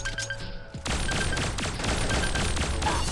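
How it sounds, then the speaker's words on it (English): Continuous loud barrage of weapon fire and crashing impacts in Pixel Gun 3D, kicking in abruptly after a brief lull and staying dense and harsh throughout. "All right, I have no idea where I'm getting shot from"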